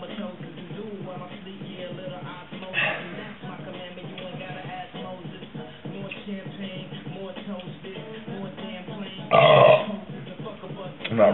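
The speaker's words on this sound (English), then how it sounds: "this shit makes you burp a lot" Loud burps from a man drinking Mickey's malt liquor, a couple of bursts standing out, near the 3 s mark and a big one around 9.5 s, over steady murmuring and background noise.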